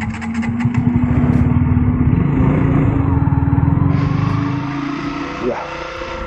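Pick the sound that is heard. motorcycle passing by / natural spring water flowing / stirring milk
motorcycle passing by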